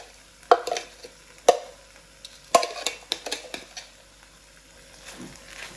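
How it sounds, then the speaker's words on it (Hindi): Spiced mixture with red chili stirred in a pan, a spoon scraping and knocking against the metal in several sharp strokes over a soft sizzle, close and alone. "इसको अच्छी तरह मिक्स कर लेंगे"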